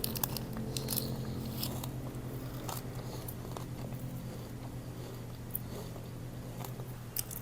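Chewy Dubai chocolate cookie being bitten and chewed up close, a steady run of soft crunching, biting bursts with faint crackle throughout, no talk.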